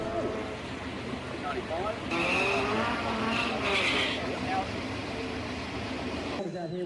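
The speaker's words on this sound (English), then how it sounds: "it also features a specially allocated burnout pit where these cars are lining up to let her rip on" Drag cars doing burnouts in a dedicated burnout pit at an Australian drag racing event, a sustained loud roar of engines with screeching tyres, heard under a narrator's voice.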